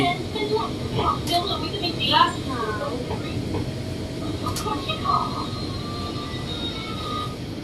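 A Bangkok MRT Yellow Line monorail runs toward Lat Phrao station with a steady rolling rumble and whine, under someone talking throughout and a few faint chimes.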